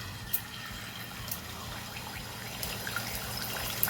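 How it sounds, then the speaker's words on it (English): Whisked eggs pour steadily into a Dutch pot for a plantain omelette, a soft continuous liquid trickle with a few faint splashes, close and fairly quiet with no talk. "I whisk this and I just pour it."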